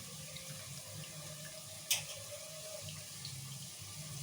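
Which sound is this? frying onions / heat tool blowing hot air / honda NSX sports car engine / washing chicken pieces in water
washing chicken pieces in water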